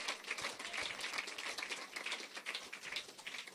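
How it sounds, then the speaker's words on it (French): A church congregation claps and applauds with a dense patter of hands, steady and fairly close throughout the short stretch. "Donnez-lui une bonne main d'acclamation au Seigneur Jésus-Christ."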